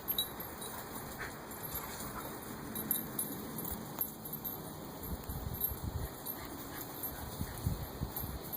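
A dog whimpers and pants faintly against a quiet, noisy background, with a few soft jangling sounds now and then and no one talking.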